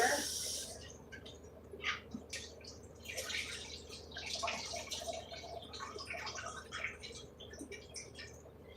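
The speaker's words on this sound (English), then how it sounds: "we're also going to go ahead and rinse them off" Canned beans are rinsed in cold water, giving a faint, steady trickle and splash of running water close by, with no talk.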